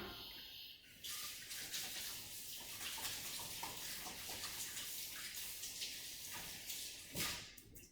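Hands washed under a running tap in a kitchen sink, a continuous rushing splash of water with a few brief clunks, heard near and alone.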